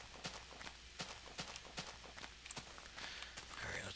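Footsteps crunch over leaves in Minecraft, a steady walking rhythm of soft, dry steps that stays fairly quiet and ends in a rustling patch.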